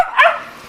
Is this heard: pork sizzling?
no